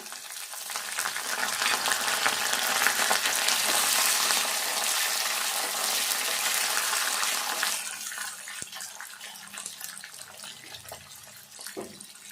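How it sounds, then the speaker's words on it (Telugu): Onions fry in oil for ivy gourd curry with a loud, dense, close sizzling roar that eases to a quieter crackle in the last few seconds. "ఇట్లా వేగినాక ఇప్పుడు ఉల్లిపాయలు వేసుకోవాలి"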